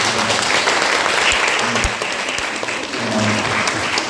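Church congregation at a Friday fellowship worship service applauding, a steady dense wash of clapping that holds for the full stretch with a faint voice underneath.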